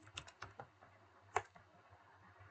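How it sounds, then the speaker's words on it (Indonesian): Keystrokes on a computer keyboard at a command prompt, a scattered run of light clicks with one sharper tap near the middle, close and quiet over a low steady hum. "kemudian kita ketik ip config"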